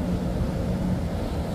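A 20-foot Hellcat boat with Suzuki outboard motors roars past at speed, a steady, loud engine drone mixed with rushing water and wind buffeting the microphone.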